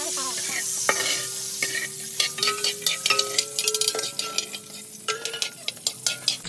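Cashew nuts frying in ghee at the start of semiya payasam, a steady close sizzle broken by a rapid run of scraping stirs and clicks against the pan.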